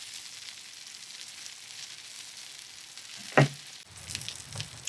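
Onions fry in a pan for a Japanese A5 wagyu cheeseburger, giving a steady close sizzle with one sharp clack of a utensil and some stirring noise near the end.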